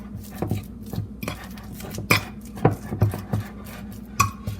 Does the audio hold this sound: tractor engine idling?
no